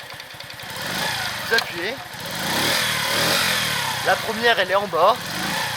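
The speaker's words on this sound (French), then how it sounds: "Donc je vais la démarrer au kick. Donc là, j'enlève le starter. Vous entendez le moteur bien." A Masai Greystone motorcycle engine runs steadily after a kick start, a low continuous rumble with slight rises, heard close beneath someone talking throughout.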